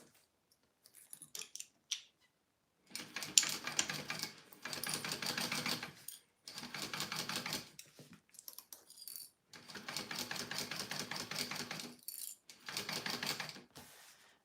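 Sewing machine basting a lining onto a bow fanny pack, running in several bursts of rapid stitching separated by short pauses, close and alone.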